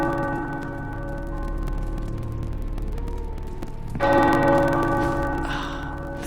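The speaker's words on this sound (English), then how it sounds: "The tower bells are ringing." Tower bells ringing in the video game Marvel: Midnight Suns, with sustained metallic tones that hum and overlap at moderate volume, then a fresh, louder strike partway through that rings out brightly over the lingering resonance.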